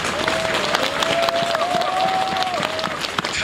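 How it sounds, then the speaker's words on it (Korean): A large audience at a railway line opening ceremony in Korea applauds steadily for a few seconds, a dense continuous wash of clapping with crowd murmur mixed in. "박수 한번 쳐줘야 되겠다"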